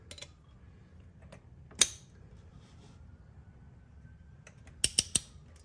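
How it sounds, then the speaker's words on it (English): A torque wrench tightens a spark plug to 13 foot-pounds on a 3rd-gen Toyota Tacoma. One sharp metallic click sounds close by, then three quick clicks follow near the end over a quiet background. "Use our torque wrench."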